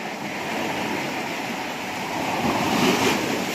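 Continuous roaring surf from big sea waves and heavy wind noise buffeting the microphone in stormy weather, a dense, steady wash of sound with no pauses.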